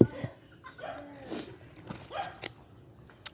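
A pet dog makes a few faint, soft whines and short yelps nearby in a quiet room, with no one speaking.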